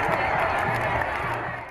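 A crowd cheers and applauds awaiting a head of state's arrival, a dense wash of clapping and shouting voices that stays steady and fairly loud throughout.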